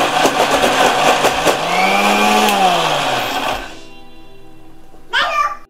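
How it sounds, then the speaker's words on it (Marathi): A kitchen mixer grinder blends dosa batter with a loud, whirring motor drone that rises and dips in pitch, cuts off after about three and a half seconds, then gives one short burst near the end. "मिक्सर लावते"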